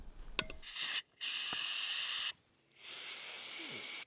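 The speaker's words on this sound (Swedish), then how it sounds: "Och då börjar vi med att spraya lite" Cleaning spray hisses onto an AKM rifle barrel in two long, close bursts of about a second and a half each, following a brief click and rattle, with silence between them.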